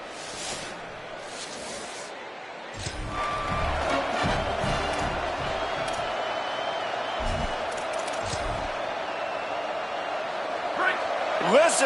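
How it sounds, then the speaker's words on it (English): Stadium crowd roar in a college football video game, Ohio Bobcats against Indiana, a steady dense wash of cheering under a commentator's voice, swelling louder with bursts of noise partway through. "Listen to this crowd just shaking the girders of this place, trying to help their defense."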